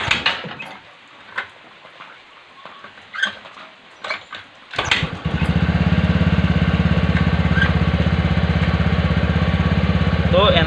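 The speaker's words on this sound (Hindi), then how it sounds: "तो अभी आप लोगों को गाड़ी स्टार्ट करके मैं दिखा देता हूँ कि ये अभी अच्छे से काम कर रहा है कि नहीं।" A TVS Ntorq BS6 scooter engine starts around the five-second mark after a stretch of quieter handling noise, then settles into a steady, loud, close idle that runs to the end.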